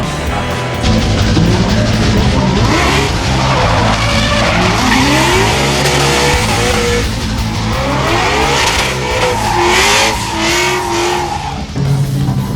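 Cars drift at an outdoor drifting show with loud, continuous tire squeal rising and falling in pitch over roaring, revving engines, close and sustained throughout.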